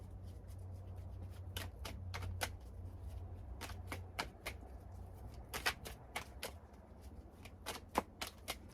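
Tarot cards being shuffled by hand, a soft riffling with quick bursts of crisp card flicks in irregular clusters, close and fairly quiet, with no talking.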